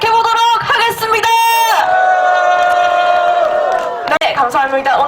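A large crowd at the fifth Gyeongju candlelight rally calling for Yoon Suk Yeol's resignation roars and cheers, with loud sustained shouts and whoops that dip briefly near the end before surging again.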